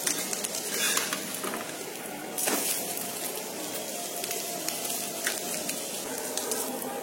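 Tomato paratha sizzles steadily in a hot pan, a continuous bright crackle of frying with a brief louder burst partway through, no voices.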